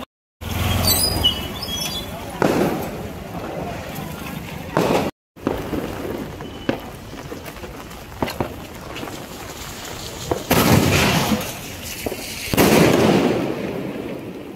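Diwali firecrackers burst and crackle outdoors near a temple in rain, in scattered pops and blasts, with voices in the background between bursts.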